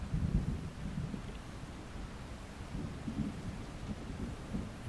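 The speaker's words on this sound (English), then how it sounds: "You wait in anticipation for the following boom of thunder from that faraway bolt." Low thunder rumbles in a soft, continuous roll that swells and fades through the whole stretch, far off and muted under faint wind or rain noise, on a shore on the Isle of Skye in Scotland.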